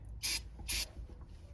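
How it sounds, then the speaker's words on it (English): Brake cleaner sprayed from an aerosol can onto a hand during a 2000-2007 Ford Focus blend door repair: two short, sharp hissing bursts about half a second apart, close and loud over low background rumble. "Put some more brake clean on my hand"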